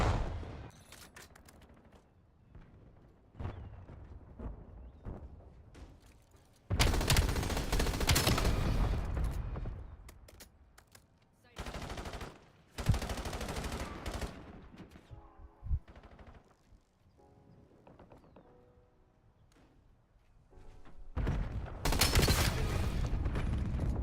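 Bursts of gunfire in a shooter video game, rapid automatic volleys and single shots landing as headshots, loud and close in several clusters with quieter gaps between them.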